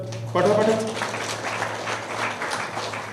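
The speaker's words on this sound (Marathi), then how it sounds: "पुन्हा एकदा आपण त्यांच्याकरता जोरदार टाळ्या वाजवूयात." Audience applause at a felicitation during a talk on the Dhamma movement starts abruptly and carries on as a moderate, even patter, with a tonal hum underneath.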